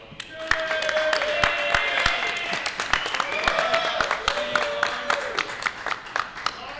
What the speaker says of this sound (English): Can we give him a round of applause, everyone?